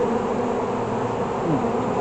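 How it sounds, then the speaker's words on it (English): Honeybees buzzing at an open beehive during an inspection, a dense, steady swarm drone close to the microphone, loud and continuous, with no talk over it. "we got a lot more bees than last week"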